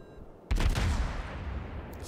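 A single heavy naval gun blast in World of Warships, from a Fletcher destroyer, hitting abruptly out of near-silence and then rolling away into a long, fading rumble.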